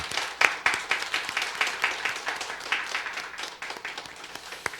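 A church congregation claps for its choir during a New Year's Eve worship service, a dense, rhythmic crowd applause with distinct sharp claps, steady and fairly close, lasting several seconds without voices.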